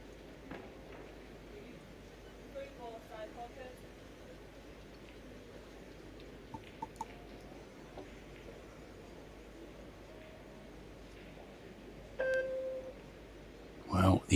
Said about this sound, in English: He's heard the 10-second beep.